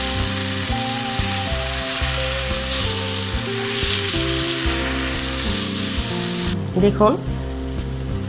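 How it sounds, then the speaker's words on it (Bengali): Chicken chow mein with vegetables fries in a pan with a steady, loud sizzle and intermittent stirring clatter, a brief voice speaking over it near the end. "এবার আমি চাউয়ের সাথে সবজি আর চিকেন ভালোভাবে ফ্রাই করছি।"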